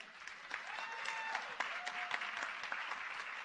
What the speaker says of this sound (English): I want you all to give an applause to our Honorable Minister for that